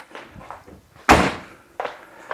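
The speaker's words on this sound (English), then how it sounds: "Right, close the doors." Doors on a workshop or garage close, one loud thudding slam followed by lighter knocks and shuffling steps, near and clear.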